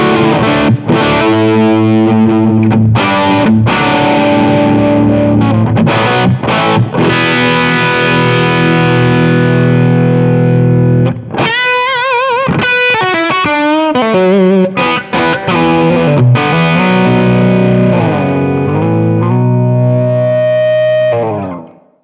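An electric guitar played through a Jared James Nichols signature Blackstar amp head and cabinet, channel 2 with blues power fully up and reverb about halfway, rings out loud and distorted in sustained chords, then bends and vibrato-laden lead lines before fading.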